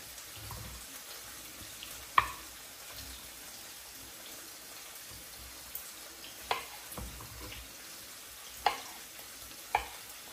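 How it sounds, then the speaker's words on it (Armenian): Peppers fry in a pan for a chicken breast and tarragon salad, giving a steady soft sizzle with a few sharp clinks and taps from time to time, close by and with no talking. "Ու միշտ տապակվում է պղպեղները"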